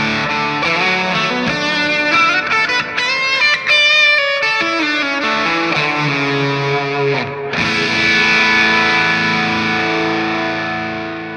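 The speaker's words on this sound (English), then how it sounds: "Now let's blend in a nice stereo delay and reverb" Distorted electric guitar, routed through a TheGigRig G3 pedal switcher, playing chords and notes that ring out with stereo delay repeats and a wide reverberant tail, loud and continuous without voices.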